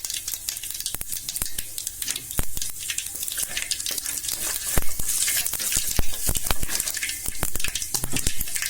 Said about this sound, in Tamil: இப்போ கடுகு பொரியுது.